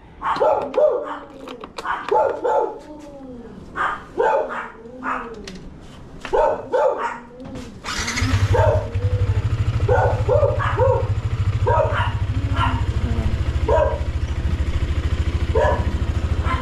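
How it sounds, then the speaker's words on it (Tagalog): A dog barks repeatedly in short, loud bursts, then a steady engine drone, likely a motorcycle, comes in and continues under further scattered barks. "tumuhol na naman ang aso"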